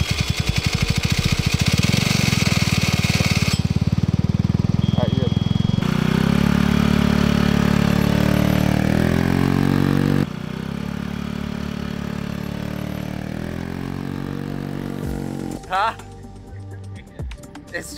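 A Coleman moped engine fitted with a leaf blower supercharger runs loudly up close, buzzing and revving with shifting pitch and a rattly clatter, then drops lower before sputtering near the end, while people talk over it.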